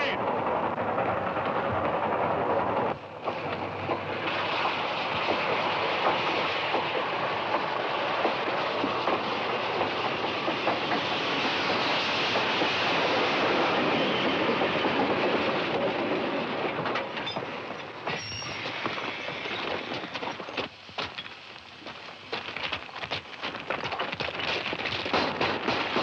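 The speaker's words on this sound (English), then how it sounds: "Engineer, stop the train!" A 1950s train running on rails, a loud continuous rumble and clatter of wheels over track that fades somewhat toward the end.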